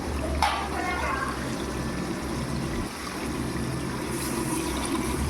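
Water is poured from a tumbler onto rice in a pot for biryani, a continuous splashing, gurgling pour close by that runs steadily, with a brief dip midway.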